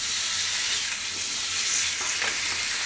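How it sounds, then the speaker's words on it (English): Bacon sizzles loudly and steadily on a hot Blackstone griddle, a dense continuous crackle and hiss close up with no talking. "Start throwing our bacon on."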